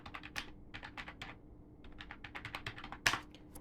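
Typing code on a computer keyboard during a Django web project tutorial: quick bursts of close, crisp key clicks, a short pause, then more rapid typing ending in one louder keystroke, with no talk.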